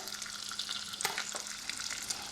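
Butter sizzles steadily in a hot pan, a close, crackling hiss with small pops, no voices.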